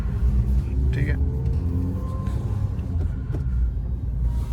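Maruti Suzuki Fronx running on CNG, a smooth low engine hum from inside the cabin while driving, steady and continuous with faint road rumble underneath.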